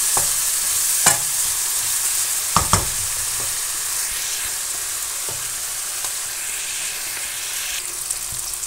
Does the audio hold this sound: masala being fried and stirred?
yes